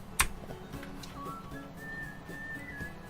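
An auto-tuned whistle in a soundtrack plays a thin, pitch-stepped melody of sustained notes rising in steps, faint under a soft music bed after a sharp click at the start.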